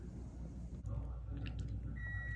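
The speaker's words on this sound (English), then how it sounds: "sorry for the beeping" A steady electronic beep tone sounds faintly from about the two-second mark, over a low background hum, in a room where a gift box is being unpacked.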